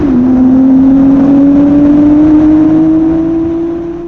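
A Nissan GTR rat and track build revs hard and accelerates, its engine a loud, sustained droning tone that climbs steadily in pitch, close up and alone, fading slightly at the end.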